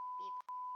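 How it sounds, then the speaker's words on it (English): A steady electronic beep tone sounds, briefly interrupted by two sharp clicks before it resumes. "beep"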